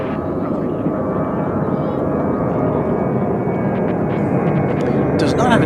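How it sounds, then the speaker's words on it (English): A Boeing 787-9 Dreamliner jet lines up on runway 36 right at DFW Airport, its engines a broad, steady rumble that swells slightly toward the end, heard from a distance. "787 Dreamliner -9, which is lining up to take off on 36 left."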